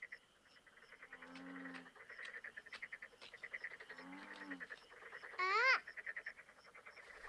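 Frogs croak at night in a few short, low grating bursts over a steady pulsing chorus of night insects, fairly faint and distant, with one brief higher chirp near the end.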